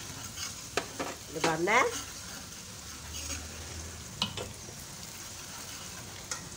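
Beef karahi sizzling in a pan as a spoon stirs it, soft frying hiss with scattered clinks and scrapes, and a short stretch of spoken words near the start.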